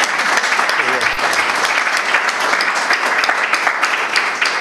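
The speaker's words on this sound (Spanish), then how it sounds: "vamos a aplaudirte primero" Audience at a talk applauds, thick sustained clapping from many hands, loud and even throughout with a brief murmur of voices early on.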